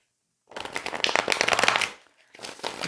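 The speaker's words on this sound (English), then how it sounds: "Just want to do some shuffles" Brisk riffling and flicking of tarot cards being shuffled, close up, in two bursts separated by a short pause.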